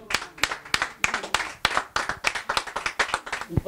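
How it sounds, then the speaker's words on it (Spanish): Steady hand clapping from a small group or a few people, roughly a dozen sharp claps in a regular rhythm, close and clear with no speech over it. "Aplauso, aplauso."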